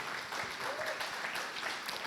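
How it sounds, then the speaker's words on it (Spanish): A church congregation gives a short burst of applause, a dense wash of clapping at moderate distance with faint voices mixed in. "¿Quién da un aplauso a esta palabra?"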